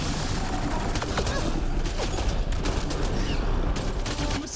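Gunfire in the video game Mass Effect Andromeda, a dense continuous burst of shots and crackling fire that stays loud throughout, with a player's voice faintly mixed in.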